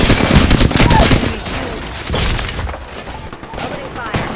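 Rapid bursts of gunfire and impacts from the Apex Legends battle royale game crackle loud and close, dense volleys in the first seconds easing into scattered shots.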